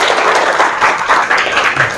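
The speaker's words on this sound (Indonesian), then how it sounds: "Tepuk tangan dulu buat Saudara Irwan." Classroom audience claps for a student's answer during a lecture, a short burst of scattered handclaps, fairly close and moderately loud, with no talk over it.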